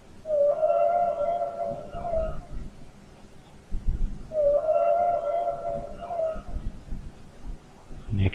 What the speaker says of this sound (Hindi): तो चलिए स्टूडेंट्स अब व्हेल की साउंड सुनते हैं।